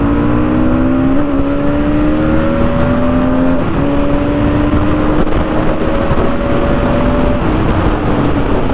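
2024 Bajaj Pulsar NS200 motorcycle exhaust revving up close, loud throaty engine rising in pitch through repeated revs, then holding and dropping back to idle.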